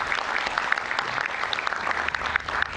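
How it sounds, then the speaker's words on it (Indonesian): Lively audience applause for Professor Ikrar Nusa Bakti at an Indonesian gathering, a continuous crowd of clapping filling the short moment. "Sekali lagi kita berikan tepuk tangan yang meriah untuk Prof. Ikrar Nusa Bakti."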